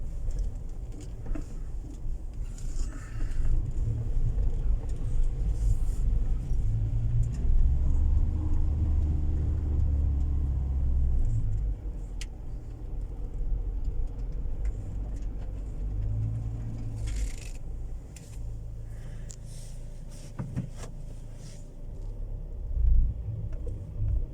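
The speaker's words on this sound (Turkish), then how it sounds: "Neyse araba yola çekeyim de" A car engine rumbles steadily while the vehicle struggles over rough, soft ground trying to get out near Silivri Değirmenköy, with a low continuous drone, occasional rattles and knocks, close and moderately loud.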